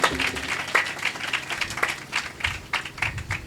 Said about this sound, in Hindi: इस खुदा के कलाम के लिए जोरदार तालियां बजाइएगा।